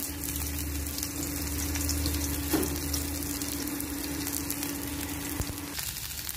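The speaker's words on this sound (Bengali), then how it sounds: "পেঁয়াজটা ভাজা ভাজা হয়ে গেল" Chopped onions fry in very hot oil in a home kitchen, giving a steady, dense sizzle that holds level throughout before easing slightly near the end.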